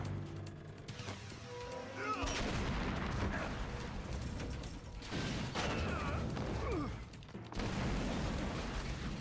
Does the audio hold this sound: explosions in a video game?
yes